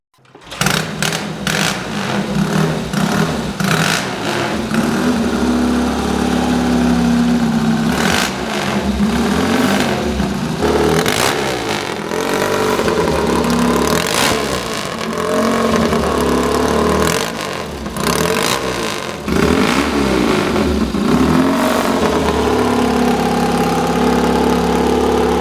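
A 1963 Triumph TT desert racer motorcycle engine is kicked into life and then idles with a rapid, uneven beat, punctuated by several sharp revs, loud and close, with no talking throughout.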